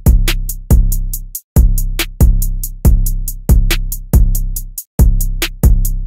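Full trap drum pattern programmed in FL Studio, with booming kicks, snappy hits and rapid hi-hats looping together in a dense, driving groove, with two short gaps of silence.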